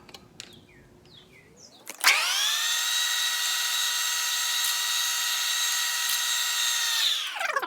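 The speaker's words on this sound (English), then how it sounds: "I'm just going up 1 drill bit size here." A few light clicks, then a power drill whirs up loudly and runs at a steady high pitch for about five seconds before winding down.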